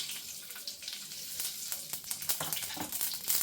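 Mustard seeds sizzle and crackle in hot oil in a pan for a ridge gourd vegetable dish, a soft, close frying hiss with faint irregular pops over a few seconds.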